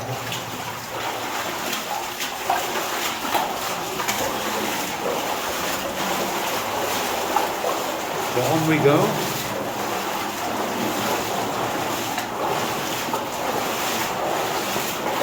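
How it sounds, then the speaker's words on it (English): A waterfall rushes inside an old lead mine adit, a steady broadband roar echoing off the rock and filling the whole stretch, with someone speaking briefly over it. "some waterfall going on there."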